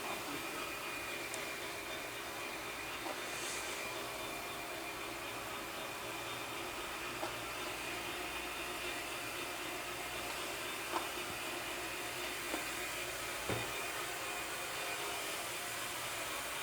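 A Shark Steam Pickup steam mop runs across the floor with a steady hissing, whirring hum, occasional faint clicks and knocks as it moves, and no voices over it.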